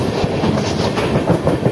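The 11447 Shaktipunj Express runs past Bally railway station on the Howrah main line, heard from on board. Its steady, loud rumble carries a rhythmic clickety-clack of wheels over the rail joints.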